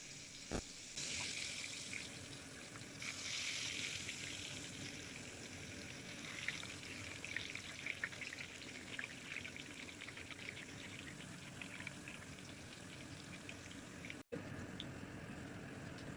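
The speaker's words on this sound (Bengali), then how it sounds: "এবার একটি কড়াইতে তেল গরম করে ভেজে নেওয়ার পালা। ভেজে নিচ্ছি আলুর স্লাইসগুলো।" Thin potato slices for crispy chips fry in hot oil in a kadai, giving a soft, steady hiss with scattered small crackles and pops that holds at a fairly quiet level.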